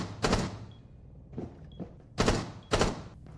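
Video game gunshots and footsteps in a small carpeted room: several dry, dampened shots in two pairs with softer thuds between them, each ending quickly with little echo.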